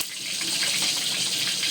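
Water from a pot of cooked chicken pours and splashes into a sink, a steady near gushing hiss running alone for under two seconds.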